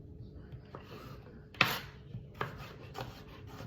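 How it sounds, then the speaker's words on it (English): A knife slicing vegetables for a comfort dal on a cutting board, a few soft scraping strokes and sharper cuts spaced irregularly, faint and close in a quiet kitchen. "I'm just going to keep slicing"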